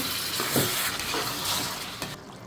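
Country chicken meat stirred and fried with a little water in a pan, a loud close sizzling hiss with scraping stir strokes rising and falling over a couple of seconds.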